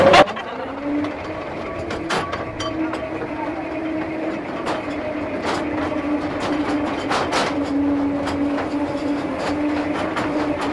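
A small mine train at the Britannia Mine Museum in Squamish, British Columbia, rumbles and rattles along with a steady hum, sharp clanks and squeals, and people talk over the noise.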